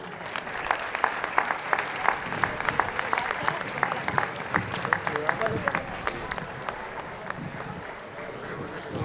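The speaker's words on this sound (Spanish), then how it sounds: "acomiadem el regnat del 2026 i el regnat del 2027 amb un fort aplaudiment" Crowd at a festival reign presentation ceremony for the Balls del Jesús de Biar, Biar, giving sustained applause, steady clapping at a moderate distance with a murmur of voices mixed underneath.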